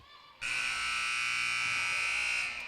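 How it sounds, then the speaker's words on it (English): A loud, harsh electronic basketball game buzzer blares for about two seconds in one continuous tone at the end of a girls' high school game, then cuts off. "On 3 at the buzzer by Taryn Horning, missed, and that'll get us to the end of the game."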